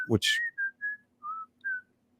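A person whistles the Andy Griffith Show theme: a short run of clear, close melodic notes in a quick, bouncy phrase, with no other sound around it.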